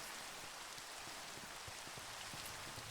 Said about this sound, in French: C'est une pluie acide